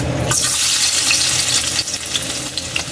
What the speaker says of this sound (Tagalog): Magigisa na tayo kaili ng bawang